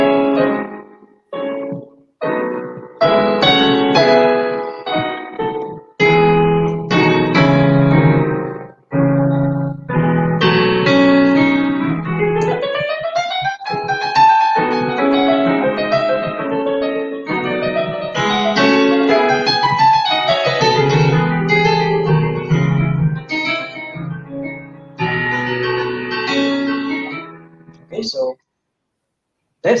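A piano piece played through fluently, with flowing runs and chords, sustained and close, with a couple of brief pauses.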